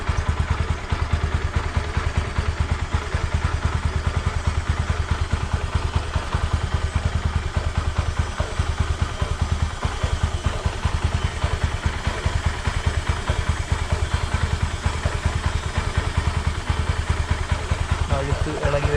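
A motorcycle engine runs steadily at idle while its chain is scrubbed with a brush, giving a continuous low rumble with rapid rhythmic clatter and occasional thumps, and a voice talks over it.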